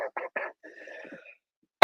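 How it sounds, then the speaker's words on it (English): A man with a lingering cough gives a few short rough bursts early on, then one loud, sharp cough at the very end, close to the mic, during a Rangers vs White Sox livestream watch party. "So I've been coughing a lot."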